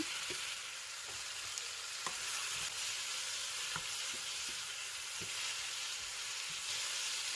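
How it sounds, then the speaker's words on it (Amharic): Tomatoes fry in a pan with onion and potatoes, giving a steady close sizzle with scattered soft crackles and occasional light taps throughout, no voices. "ቲማቲሙን 1-2 ደቂቃ እንጠብሳለን።"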